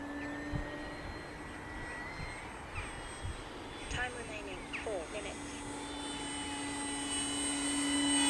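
An E-flite M7 Maule foam model tail-dragger plane whines with electric motor tones that rise and fall as it passes, growing louder toward the end, with someone talking over it.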